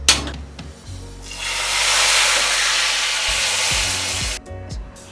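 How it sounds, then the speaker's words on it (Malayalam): Mustard seeds frying in hot oil for an Idli dish, a loud continuous sizzling hiss that swells and holds for several seconds before cutting off, with a few low clunks at the start and end. "നമുക്ക് കടുക് വറുക്കാം."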